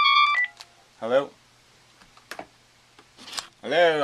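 Telephone keypad tones sound in a short burst at the start of a call, followed by a voice speaking in short bursts with pauses between.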